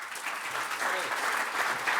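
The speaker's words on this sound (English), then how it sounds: "if everybody could just give some round of applause" Audience applause closing a panel debate event at the National Press Club in Canberra, a steady dense patter of many hands clapping throughout, fairly close and sustained with no pauses.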